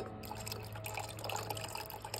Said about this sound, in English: We're going to add a little nitric to it.